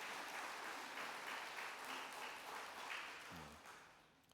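A church congregation claps steadily for a few seconds, the applause fairly soft and fading toward the end.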